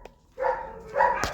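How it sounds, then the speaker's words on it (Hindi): Dog barks at home: two short, moderately loud barks a half-second apart, slightly distant, with a faint thump at the end and no talk. "क्यों भौंक रहे हैं?"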